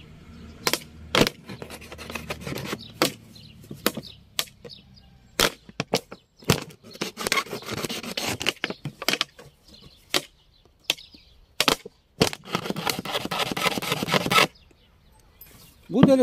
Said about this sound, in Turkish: Şişe çevresine 4 tane delik açacağız böyle.